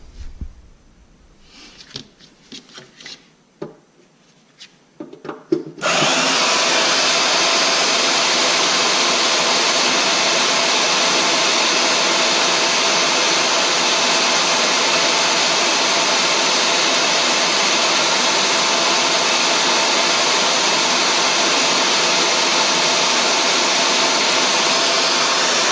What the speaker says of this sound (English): that bandsaw cut through that aluminum like butter